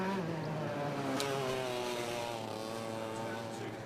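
Racing kart engines rev at Buckmore Park during a Club 100 sprint heat, several high buzzing motors layered together with rising and falling pitch, loud and steady throughout.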